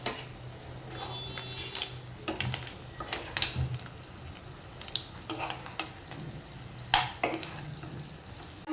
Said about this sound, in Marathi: परत एकदा ते मिक्स करून घेते।